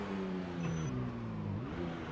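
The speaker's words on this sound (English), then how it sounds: "this car doesn't have a muffler, and basically we reverse as loud as a horn honk" A game car with no muffler and boosted engine loudness reverses with a loud, steady, harmonic engine drone that bends in pitch, close and continuous with no talking.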